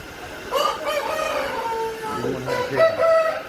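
Layer chickens at a 6,000-bird poultry farm in Bankura cluck and call in short bursts, fairly close, with one drawn-out crow-like note near the end; no talking.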